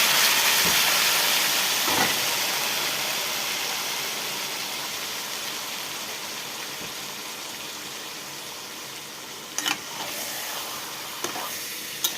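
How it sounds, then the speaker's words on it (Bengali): Marinated chicken pieces hit hot oil in a kadai and sizzle with a loud, steady hiss that slowly fades over several seconds, broken by a few faint clicks of utensils. "কড়াইতে তেলের মধ্যে ম্যারিনেট করে মাংসটা দিয়ে দিলাম"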